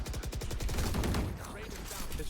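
Valorant gunfire rings out in rapid bursts like automatic fire, then a lingering echo, with a voice talking over it.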